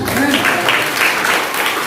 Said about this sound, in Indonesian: Tepuk tangan untuk Kristus.